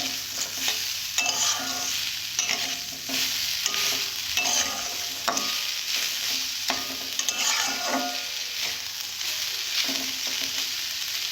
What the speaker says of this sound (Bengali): এক বাটি চিনি নিয়েছি তারপর হালকা করে নাড়তে থাকবো